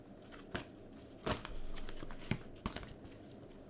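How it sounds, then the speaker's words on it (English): Tarot cards being shuffled by hand, quiet papery riffles and taps in irregular bursts, close and soft, with no talking. "Shuffle up right, Tammy."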